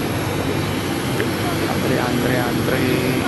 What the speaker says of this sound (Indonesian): Nah, itu pesawatnya. Pesawat karena pesawat kecil